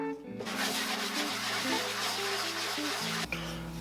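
Hand sanding touches up a wooden surface to get it flat, a steady abrasive rasp running continuously for a few seconds with a sustained tonal hum underneath, ending abruptly near the close.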